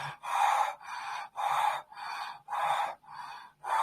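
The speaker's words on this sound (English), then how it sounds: "So it sounds like this, inhaling through the mouth." Four short, sharp breaths drawn in through the mouth during a breathing exercise, each a loud, close gasp, evenly spaced with brief pauses between them.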